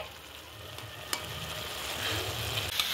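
Grated coconut and jaggery stirred continuously in a pan for naru, a soft steady sizzle with scraping spoon strokes and an occasional light clink, close but quiet.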